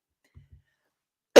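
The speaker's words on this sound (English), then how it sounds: "Excuse me for coughing." A single sharp cough, close and loud at the very end, after near silence broken only by two faint soft taps.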